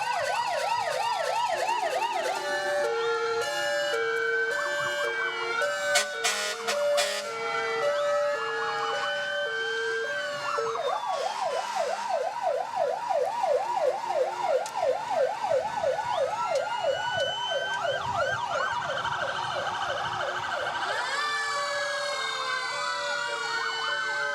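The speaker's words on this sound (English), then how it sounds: "We've got lots of fire trucks lined up here, and their sirens they're having so much fun with their sirens." Fire truck sirens wail and yelp together at a community parade, several overlapping electronic sirens cycling loudly and continuously, with rising-falling wails and stepped yelp patterns alongside vehicle rumble.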